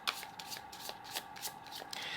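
Tarot cards shuffled by hand, a quick run of crisp riffling bursts and soft flutters repeating across a couple of seconds, close and fairly quiet with no talking.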